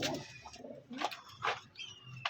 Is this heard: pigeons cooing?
yes